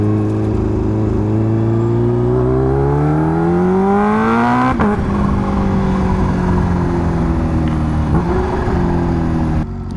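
A Kawasaki H2R supercharged motorcycle engine running on race fuel, revving hard with a rising howl that peaks, drops sharply, then climbs again at lower pitch, loud and close throughout with no voices.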